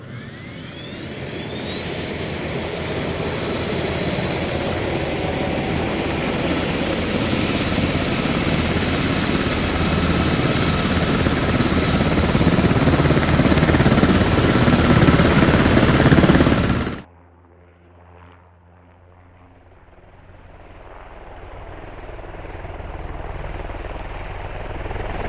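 An Australian military helicopter in the game Squad roars close and loud, rotor and turbine drone building steadily for about seventeen seconds, then cuts sharply to a quieter idling whine that slowly rises again.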